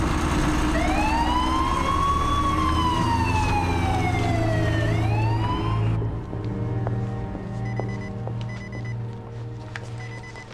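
A wailing fire engine siren sweeps up and down loudly in a London street scene near Liverpool Street Station in the 2004 film Dirty War, then cuts to a rumbling engine and traffic.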